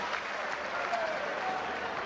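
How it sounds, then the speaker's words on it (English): Arena crowd at a professional boxing match applauds after the fight, a steady wash of clapping and cheering with voices mixed in throughout. "Ladies and gentlemen, a round of applause for the gallant Malik Scott."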